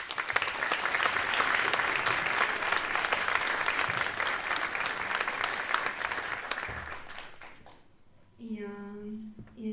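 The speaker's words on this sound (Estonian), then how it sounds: "Suur aplaus talle." A live concert audience applauds loudly and steadily for several seconds, a dense wash of clapping that fades out, followed by someone speaking close by.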